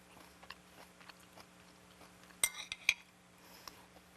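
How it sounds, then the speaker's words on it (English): A crunchy bite into a cranberry salad with apples, nuts and oranges, heard as a couple of sharp close crackles and clinks around the midpoint against a quiet background hum. "you hear the crunch? The crunch is wonderful."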